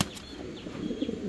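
Fancy pigeons in a cage give a quick, close flurry of wing flaps with soft fluttering, along with faint cooing and a few light chirps.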